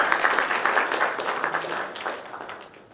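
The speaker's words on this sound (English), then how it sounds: "So a big round of applause for the family members, because they also have given up their time." An audience at a foundation opening-day event gives steady, full applause that gradually fades toward the end.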